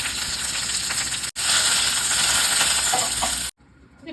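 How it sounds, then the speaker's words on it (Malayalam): Mustard seeds, dried red chilli and curry leaves sizzle loudly in hot coconut oil, a steady crackling fry that cuts off abruptly near the end. "ഇനി മീനൊന്ന് വേകുമ്പോഴത്തേക്ക് കടുക് വറക്കാം"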